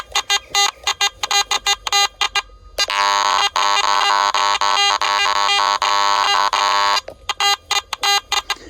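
A Garrett AT Gold metal detector sounds loud, close electronic tones, first a rapid stutter of short beeps, then a long sustained buzzing tone lasting about four seconds, then another burst of quick clipped beeps, with no talking.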